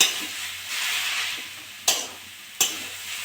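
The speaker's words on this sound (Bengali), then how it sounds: "একটু নেড়ে চেড়ে নেবো।" Milk with coconut and sugarcane jaggery being stirred in a pot: a steady soft bubbling sizzle with gentle stirring, broken by two sharp spoon knocks against the pot rim, no talking.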